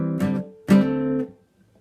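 Acoustic guitar playing from a song, two plucked notes with the second sounded by a hammer-on, close and clear, ringing briefly before fading to quiet.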